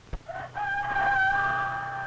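A rooster crows once in a long, clear, drawn-out call, close and loud, in a farm poultry setting with chickens.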